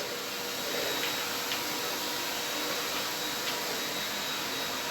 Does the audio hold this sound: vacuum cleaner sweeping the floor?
yes